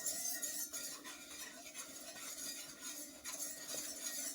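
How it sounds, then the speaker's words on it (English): A whisk stirs milk into cooked flour for a bechamel in a pot, a steady soft scraping and clinking of metal against the pan, continuous and close with no talking. "And whisk this in really good."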